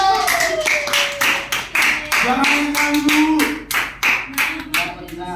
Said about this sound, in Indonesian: Beri tepuk tangan untuk kelompok kedua.